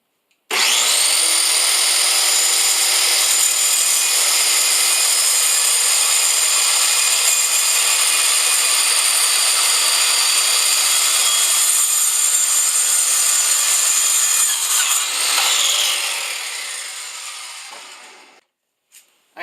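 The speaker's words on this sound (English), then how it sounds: "I'm cutting up another 1x6 board in order to create cross braces to put on the bottom of the tabletop." A power saw cuts steadily through a 1x6 wood board for cross braces under a pipe-leg tabletop, a loud continuous whining rasp lasting about sixteen seconds before it winds down and stops.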